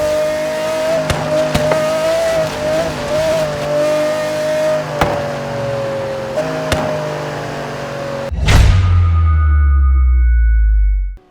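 Car engine and exhaust revving in the Forza Horizon 3 racing game, a steady high drone with shifting pitch and short sharp bursts, ending in a big surge and a fading roar.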